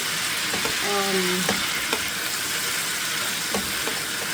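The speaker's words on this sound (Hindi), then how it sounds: "मसाले अच्छे से आपने भूनने हैं" Spices fry in a pan for Peshawari namkeen gosht, a steady close sizzle with occasional stirring clicks and a brief tonal squeak, no voices.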